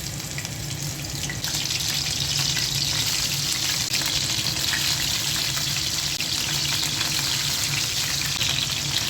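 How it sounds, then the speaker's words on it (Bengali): Tikia patties frying in hot oil, a dense, even hiss and crackle that holds loud and steady from start to finish, with no voices. "এখন তেলের মধ্যে দিয়ে দিচ্ছি।"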